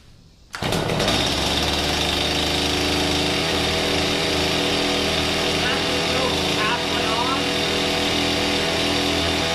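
A Stihl chainsaw engine blasts to life close by on half choke, a loud rough buzzing roar that holds steady for several seconds with slight wavering.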